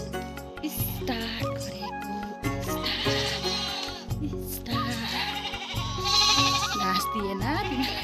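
Goat bleating outdoors in the morning, several loud, close, wavering bleats repeating across the stretch while a person talks over them.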